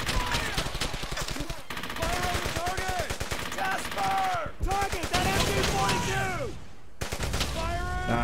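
Gunfire in Brothers in Arms: Hell's Highway, a World War II shooter, with sustained rapid bursts and machine-gun rattle, shouted voices over the firefight, and a brief gap before shooting resumes.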